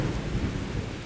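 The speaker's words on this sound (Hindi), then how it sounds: "एक अंधेरी तूफानी रात," Thunderstorm with heavy rain at night: a dense, steady roar of downpour with a low rolling rumble of thunder running underneath, loud and continuous throughout.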